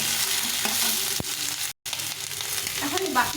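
Eggplant slices frying in a pan alongside potatoes, a steady close sizzle with a soft stirring knock and one brief dropout to silence midway.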